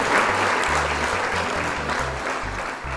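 Loud, sustained applause from a large crowd at a music concert, a continuous wash of clapping with a low rhythmic thump running underneath.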